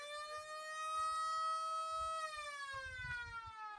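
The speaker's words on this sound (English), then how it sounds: "That's a siren. That's a classic sound of the lowrider community." A long, wavering electronic lowrider car siren tone holds and slowly drops in pitch, fairly faint with low rumbling noise underneath.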